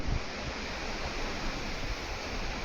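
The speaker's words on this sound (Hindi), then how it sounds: "लहरें काफी ऊंची हैं।" High waves on the North Sea during a stormy crossing toward Norway, heard as a dense, steady roar of surf and wind noise with no voices.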